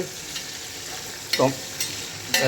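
Panch phoron, cumin, ginger and tomato frying in hot oil for a mixed-vegetable labra curry, a steady sizzle with a few sharp spoon-stirring scrapes against the pan, fairly close and with no talk.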